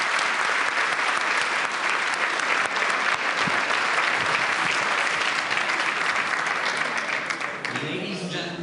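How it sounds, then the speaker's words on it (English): Sustained, dense applause from a conference hall audience at the Munich Security Conference, loud and continuous for several seconds before fading near the end. "Let's give a huge round of applause to our panel."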